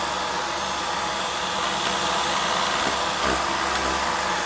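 A Uwant V100 cordless vacuum cleaner runs with its motorized brush fitted, giving a steady, close whirring hum that holds evenly throughout with no talk over it.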